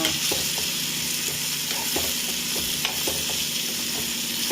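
Masala frying in a pan for an alasandi (black-eyed pea) dish, a continuous close sizzle with intermittent scraping and clinks of a spatula against the pan.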